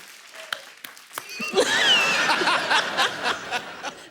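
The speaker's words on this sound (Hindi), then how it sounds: "इसके लिए पहले तालियां होनी चाहिए।" A studio audience at a comedy show breaks into applause and laughter, starting with a few scattered claps and chuckles and then swelling into sustained, loud clapping mixed with cheering and laughing voices.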